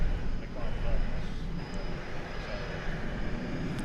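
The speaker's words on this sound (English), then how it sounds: "We do have American Flight 945 off to Santiago de Chile." Jet airliner, an American flight to Santiago de Chile, departing DFW Airport at night: a steady broad engine roar from a distance, with a voice talking over it.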